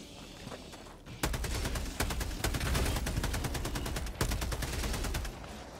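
Rapid automatic gunfire in the video game Helldivers 2, a dense stream of sharp bursts that starts abruptly after a second, with a brief pause, then continues loud and close.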